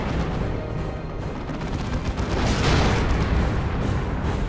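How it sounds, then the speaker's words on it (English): Manticore rocket artillery strikes in the Dawn of War II: Retribution video game, a dense rolling barrage of booming impacts and rumbling blasts that swells slightly midway, with no talk. "More Manticore strikes going in."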